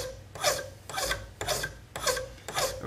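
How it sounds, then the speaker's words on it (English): A 10-inch mill bastard file pressed hard in sharpening strokes, five rhythmic rasping scrapes about half a second apart, close and loud with short pauses between strokes. "This is a 10-inch mill bastard file, and I'm going to go after it pressing pretty hard, taking that material off and"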